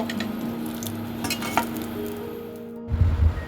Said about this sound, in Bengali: শুকনো লঙ্কাগুলো ভাজা হয়ে গেলে আমি তুলে নেব।